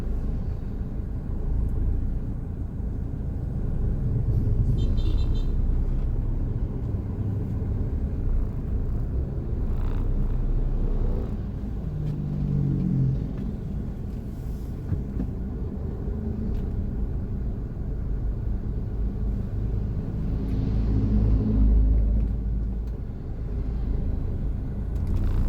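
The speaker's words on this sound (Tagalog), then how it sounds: "Tingnan nyo ang traffic doon." Steady road traffic rumble from a car driving a shortcut route in General Trias, with continuous low engine drone and passing vehicle noise throughout, no voices.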